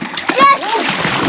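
Children splash while bathing in the water of Agusan Marsh, a loud close burst of splashing with a voice calling out over it and excited chatter around.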